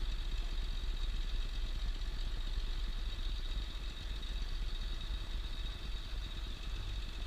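A boat engine idles at about 1200 RPM while easing into a lock on the Tombigbee Waterway, a steady close rumbling drone with light clatter that holds unbroken throughout.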